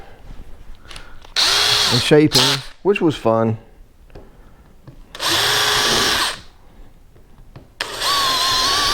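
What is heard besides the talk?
power drill drilling styrofoam kayak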